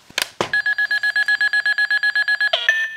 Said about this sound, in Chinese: 就是一个生命值变化的一个音效哈。